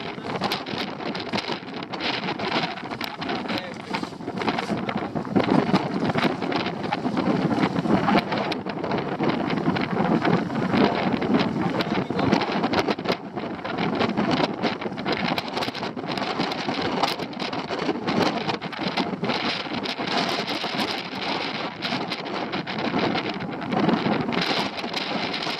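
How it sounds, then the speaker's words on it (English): Strong wind buffets a stormy coast, a loud continuous roar with gusty rumbling against the microphone that lasts throughout, with no voices. "Again, it's going to be lots of wind."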